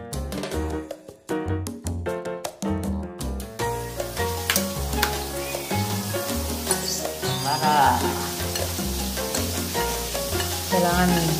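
Chicken pieces coated in flour, seasoned with kalamansi, sizzle and crackle steadily in hot oil, with stirring and clattering at first, then a continuous loud frying hiss.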